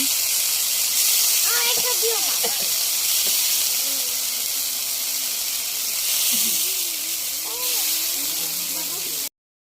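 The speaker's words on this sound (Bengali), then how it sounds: "এখন চিংড়ি মাছটা ভেজে নেব ভেজে নেব বাটার জন্য" Steady hiss of shrimp frying in a pan fills the clip, with a voice speaking intermittently over the sizzle.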